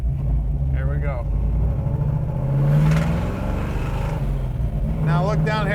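A 1966 Chevrolet Chevelle SS engine runs loud and close, its pitch rising and falling as it moves through the gears, with someone talking over it.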